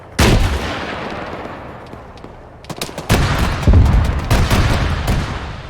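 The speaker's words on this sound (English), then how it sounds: "That sounded like an explosion." Video game firefight near a helicopter crash site in Fallujah, with a loud boom at the start followed by scattered bursts and volleys of gunfire that grow denser toward the end.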